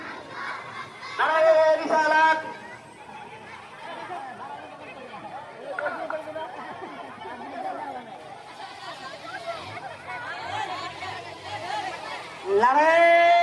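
A crowd at a madrasa reunion shouts a chant in loud bursts at the start and at the end. Murmuring and chatter from the gathering carry on between the shouts.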